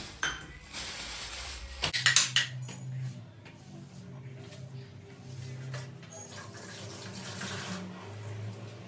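Soaked ingredients being washed in a pot of water, with close clinks and scrapes of metal cookware and a short burst of splashing and rattling early on, then steady sloshing and handling noises throughout.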